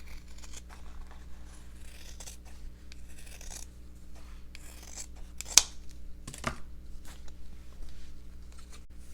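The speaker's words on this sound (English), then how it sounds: "take my scissors and just cut around" Scissors snip through denim fabric held against a heart template, giving quiet, close crunching cuts with soft rustling of the cloth; one sharper snip stands out.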